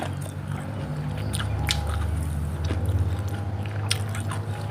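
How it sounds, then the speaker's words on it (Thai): Big mouthfuls of vegetables chewed up close, a steady run of wet biting and squishy chewing with occasional crisp crunches, loud and continuous with no talk. "คำโตๆนะเคี้ยวหมดเลยนะฮะ"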